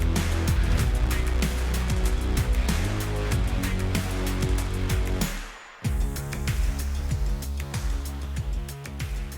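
An A-10 Warthog's GAU-8 cannon fires in long, loud, continuous roaring bursts. After a brief gap, the rumbling echo rolls back from the sky. The sound is dense and sustained, with a low, grinding buzz.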